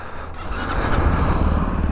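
Sinnis Terrain 125 adventure motorcycle engine idling steadily close by on a byway, a continuous low rumble with a slight rise partway through.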